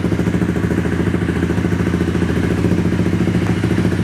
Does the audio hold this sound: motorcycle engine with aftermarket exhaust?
yes